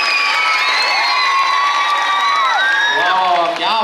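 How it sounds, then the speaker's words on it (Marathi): An audience at a Marathi cultural program breaks into loud, continuous applause mixed with whoops and cheering that fills the whole stretch without pause. "एकदा जोरदार टाळ्या वाजून आपण या कार्यक्रमाची सुरुवात करूया."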